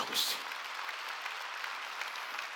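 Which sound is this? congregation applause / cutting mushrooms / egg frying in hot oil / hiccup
congregation applause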